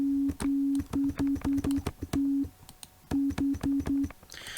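A steady pure sine-wave tone from a synthesizer oscillator in FL Studio pulses on and off in short bursts of varying length, with brief clicks between, loud and close.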